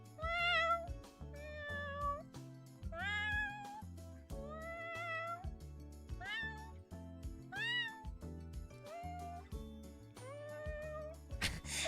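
A person's voice imitates a cat, giving a run of about ten drawn-out, rising and falling meows in steady succession. They are loud and close over a constant low backing of background music.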